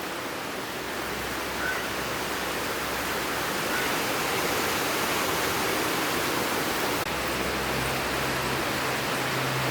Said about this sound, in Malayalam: നല്ല മഴ പെയ്തുകൊണ്ടിരിക്കുക കേട്ടോ.